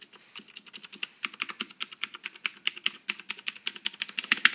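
Brisk, irregular clicking of keys on a Keycool K-1 22-key mechanical numeric keypad, close and clear, with sharp individual strokes and no talk.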